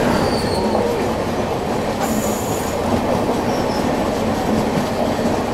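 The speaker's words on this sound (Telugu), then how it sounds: "హౌరా యశ్వంత్పూర్ ట్రైన్ అయితే వస్తుంది" The Howrah–Yesvantpur express train rolls past close by, a loud, steady rumble of railcars with squealing wheels and faint clickety-clack of the rails, no voices.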